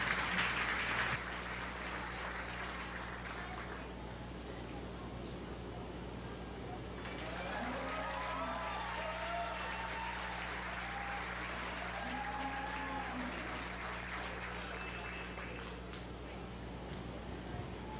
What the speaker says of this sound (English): let's give them one more nice round of applause